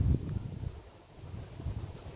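Low, steady wind buffets the microphone outdoors at a beehive apiary, a rumbling gust that swells at the start and keeps blowing throughout.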